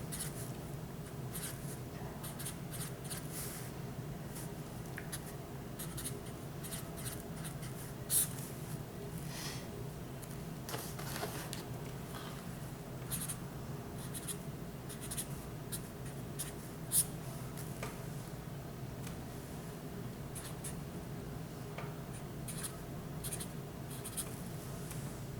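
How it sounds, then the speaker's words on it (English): Quiet scratching of a pencil writing out math problems, with soft, continuous strokes and occasional light taps, heard close in a calm classroom setting with no talk. "go ahead and write this down"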